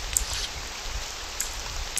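Steady rain hiss from a horror pixel-art video game, a soft continuous wash of falling drops with faint brief ticks, heard alone with no voices.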